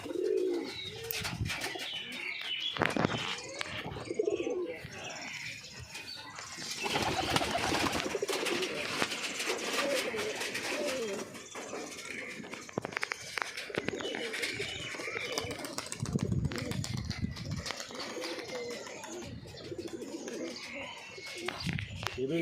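Pigeons cooing in low, throaty rolls close by, with wing flutters and people talking intermittently over them.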